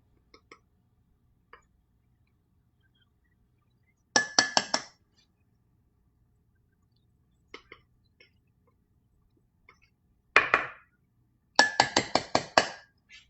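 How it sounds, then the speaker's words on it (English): Paring knife scraping and tapping against a metal adjustable measuring spoon while levelling all-purpose flour, heard as a few soft ticks followed by three short bursts of bright clinking and scraping, close up and alone. "I like to use our little paring knife to level it off"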